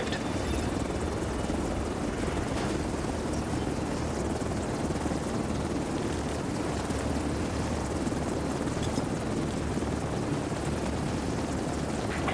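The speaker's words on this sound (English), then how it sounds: "Helo arrived." An extraction helicopter in the video game The Division 2 arrives with a continuous, steady rotor roar and engine drone filling the scene for the whole stretch, without speech.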